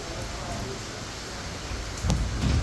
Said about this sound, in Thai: ฝนลงเยอะมากเลย